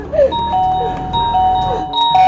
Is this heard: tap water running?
no